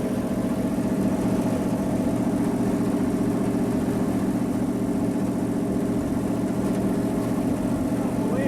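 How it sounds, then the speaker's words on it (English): A car engine running without oil or water idles steadily with a constant low rumble, loud and close, no change in pitch throughout. "This engine is running just as smooth as it did a minute ago."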